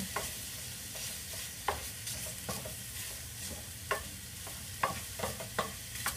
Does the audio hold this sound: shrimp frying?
yes